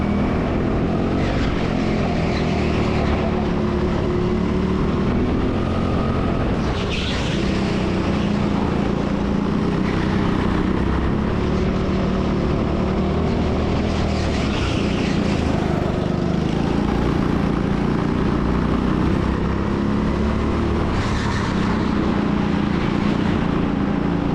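Several go-karts race around the TeamSport Sheffield circuit, their engines producing a constant loud buzzing drone with periodic swells as karts sweep past, sustained for the whole stretch without speech.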